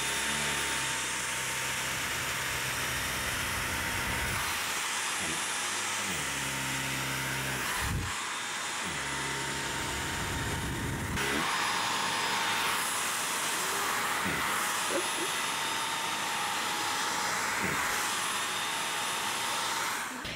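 A cordless stick vacuum with a nozzle attachment runs steadily at close range during a morning house-cleaning routine, a continuous motor whine whose airflow roar surges and dips as the head moves.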